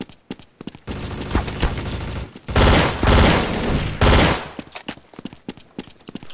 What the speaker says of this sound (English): I'm on the P90. I hate this gun so much.